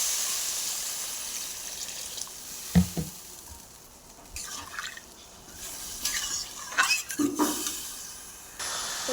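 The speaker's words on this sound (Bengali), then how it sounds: "তো ঝোলটা ফুটছে" A pot of thin Katla fish curry broth with fried potatoes simmers on the stove, giving a low steady hiss broken by scattered bubbling pops and a few brief louder bursts.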